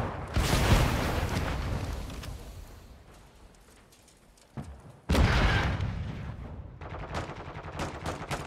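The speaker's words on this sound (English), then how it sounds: "Throwing flash grenade!" Flash grenade detonations and gunfire in Call of Duty multiplayer with a Kastov 74u, loud bursts at the start, a quieter lull, then a second sharp blast followed by rapid crackling shots.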